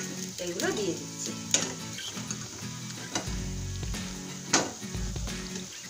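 Deep-fried golap pithe dropped into hot sugar syrup, a steady sizzle with occasional utensil clinks and soft knocks at close range, a brief muffled voice early on.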